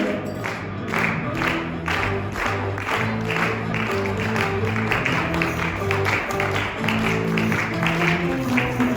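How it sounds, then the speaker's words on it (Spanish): A church congregation claps hands in steady rhythm during a worship song, with singing and instruments carrying along under the beat throughout. "Vamos a hacer las palmas en esta noche"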